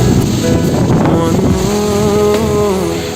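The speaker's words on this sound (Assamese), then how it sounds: "এইবেলি আকৌ বতাহ খুব জোৰে আহিছে" Strong, steady wind roars across the whole stretch at high level, a constant broadband rush with a faint tonal hum underneath.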